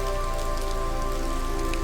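Rain falls steadily and densely, a constant close patter on surfaces with an even hiss throughout and no voices.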